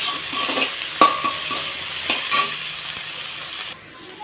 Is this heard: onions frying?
yes